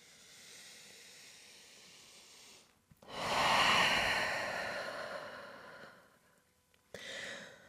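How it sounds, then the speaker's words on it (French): Deep breaths during a yoga pose: a soft, long exhale, then a loud, full breathy rush that slowly fades, and a short sharp inhale at the end, close to the ear. "prenez des grandes respirations, trouvez l'espace dans votre cage thoracique"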